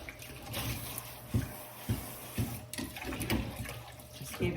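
Water is squirted onto potting soil in a container, a faint, uneven splashing and dribbling with several soft bursts and pauses, close by, with no talking.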